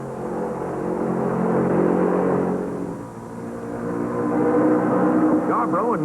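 NASCAR stock cars, a Plymouth and a Ford, race at Darlington Raceway in 1968, their engines droning and swelling as they pass, with a commentator talking over the noise.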